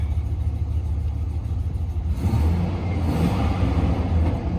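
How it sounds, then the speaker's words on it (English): A GMC 2500 truck's 6.0 engine idles with a steady, low rumble, with a rougher, louder stretch halfway through that adds a ticking, puffing exhaust quality from a manifold leak at broken manifold bolts. No voices. "You can hear that exhaust leak from those broken manifold bolts."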